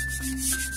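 Foam rubs against a wooden fascia board in a short, soft swishing pass that smooths the surface, close and quiet.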